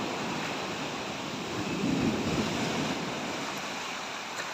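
Big ocean waves roll in at a boat landing in a steady, broad roar of surf mixed with wind rumble, one swell rising a little louder midway.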